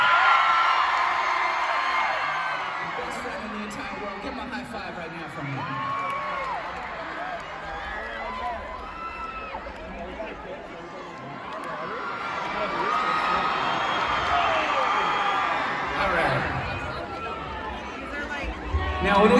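Concert crowd at a Pierce The Veil rock show in a Phoenix theater, a loud, steady wash of cheering, whooping and yelling that rises and falls over nearly twenty seconds, with no clear speech.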